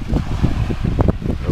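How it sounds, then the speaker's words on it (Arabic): Sea waves wash onto the shore at Neom on the Saudi coast while gusting wind buffets the microphone, a steady, loud rumble with soft surges and no voices. "أصوات الأمواج والهواء يرد الروح"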